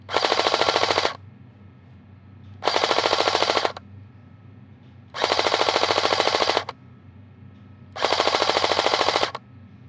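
Delta Armory AK47-style airsoft rifle firing full auto at targets, four crisp bursts of rapid clattering shots, each about a second long, separated by short pauses over a low background hum.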